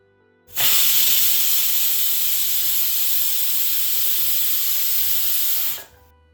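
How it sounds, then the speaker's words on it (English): A pressure cooker boiling potatoes with a pinch of salt releases a steady, loud hiss of steam that starts abruptly, holds constant for about five seconds, then cuts off, close up with no talking. "we will pressure cook them for about 4 to 5 whistles"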